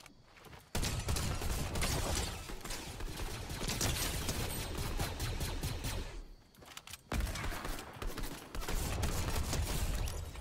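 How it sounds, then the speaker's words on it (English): Dense, continuous bursts of Fortnite gunfire, rapid overlapping shots with a brief lull midway, loud and sustained. "I hear gunshots everywhere behind us"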